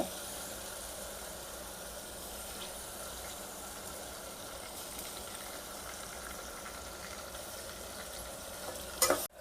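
Ginger, garlic and tomato sauté in a pan for vegetable biryani, giving a steady low sizzle and hiss throughout, with a brief clatter of a utensil at the very end and no talking.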